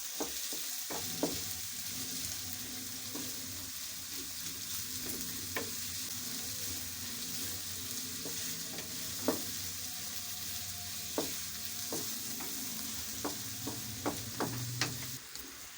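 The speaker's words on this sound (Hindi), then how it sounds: "हमने उनको काट लिया और इनको अच्छी तरीके से फ्राई कर लेंगे।" Chopped onions frying in a pot, a steady soft sizzle with occasional sharp crackles and pops, quiet and close with no voices.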